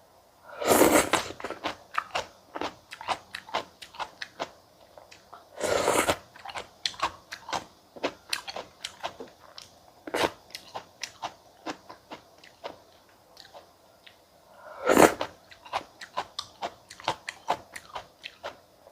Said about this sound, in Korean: 이렇게 찍어서 먹어볼게요